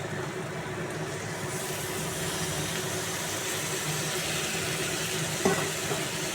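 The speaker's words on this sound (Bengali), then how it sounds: "এবার আমি এই মাখানো সবজিগুলো তেলের মধ্যে দিয়ে দেব।" Mixed vegetables, precooked potato and cauliflower coated in spices, sizzle in hot oil in a pan. A steady, even hiss continues throughout at moderate loudness, with no talking.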